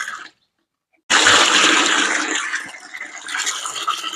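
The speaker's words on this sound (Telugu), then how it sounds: "మరొక 4 liters అయితే నేను వాటర్ ని యాడ్ చేస్తున్నా." About four liters of water pour into a container of vermicompost liquid fertilizer, beginning abruptly after a short silence as a loud, close gush that slowly tapers, with no talk.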